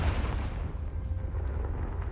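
Hogwarts Legacy Confringo spell explosion: a deep rumbling blast with a low boom that lingers and slowly fades, loud and close.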